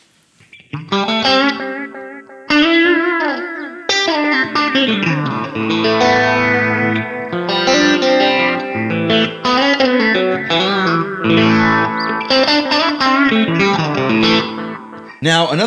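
Line 6 Variax modeling guitar played through a Helix processor, with distorted, chorused chords and lead lines washed in delay and reverb, loud and continuous with no talking.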